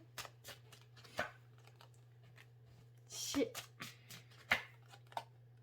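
Tarot cards are shuffled and handled during a reading, giving quiet close riffles and soft slaps in irregular bursts over a low steady hum.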